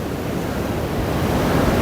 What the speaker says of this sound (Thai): คลื่นเริ่มแรงนะครับ ทุกคนสังเกตที่คลื่นนะครับ